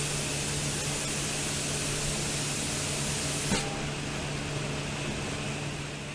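Factory painting robot spraying the cabin housing for a PIKO HO-scale Whitcomb 65-ton diesel locomotive, a steady hiss of spray over a constant machine hum, easing slightly partway through.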